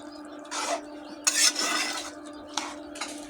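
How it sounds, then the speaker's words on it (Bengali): Cabbage being stirred in a wok, scraping and clattering in a few separate bursts with a faint sizzle in between, close and fairly loud. "আমি আবারও ভালো করে নেড়ে দেব"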